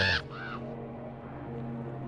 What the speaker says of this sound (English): with that bird's croak as its score